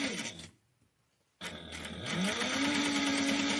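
A sewing machine stitches a bag, a brief burst of whirring followed by a pause, then a steady close mechanical hum as the stitching resumes.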